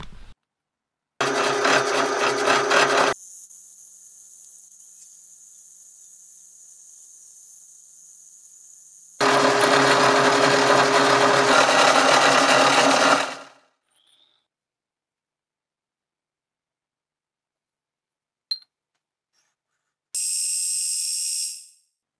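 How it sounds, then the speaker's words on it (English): A milling machine cuts a dovetail into metal vise teeth in several loud bursts of grinding, whining cutting noise, with a high sustained tone between cuts and a final short burst after a long silence. "what I need to do next is cut a dovetail up the side so they actually slot into the vise"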